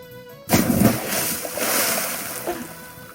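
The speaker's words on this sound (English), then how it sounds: "The water sprays out like a torpedo" A loud splash as a girl is thrown into the sea at a beach, a sudden burst of water followed by a spreading, settling spray.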